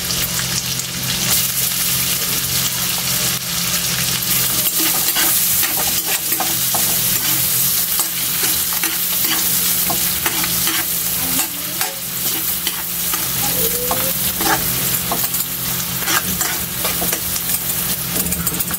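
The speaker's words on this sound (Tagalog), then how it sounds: "Lagay na natin, Kaylee, yung bawang natin." Garlic fries in butter in a pan for a seafood dish, with a loud, continuous sizzle. Steady stirring scrapes run throughout.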